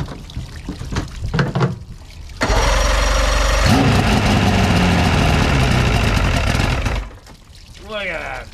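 Bass boat outboard motor with a repaired lower unit firing on the first pull and running loud and steady for a few seconds before cutting off, with people talking before and after.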